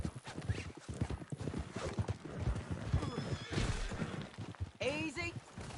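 Galloping hoofbeats pound steadily in a Red Dead Redemption 2 western game scene, overlaid with shouting voices, and a loud horse whinny rings out near the end.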